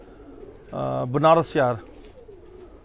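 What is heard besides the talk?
khaki (Kashniya) pigeons cooing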